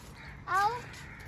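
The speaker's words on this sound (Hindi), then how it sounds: "ये देखो गुलहरी बोल रही है अंदर" A squirrel calls from inside a stand of large trees, a single short chirping burst with a few quick rising notes, moderately close against a quiet outdoor background.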